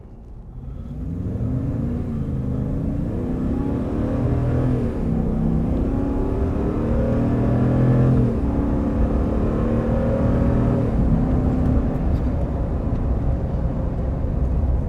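A 2020 RAM 2500 Power Wagon pickup drives at speed with a steady, loud engine rumble and road drone, its engine note rising and shifting as it accelerates, with no talking.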